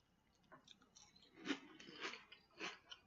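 Cereal is crunched and chewed close up, with a series of quiet, irregular crisp bites and mouth sounds and no talking.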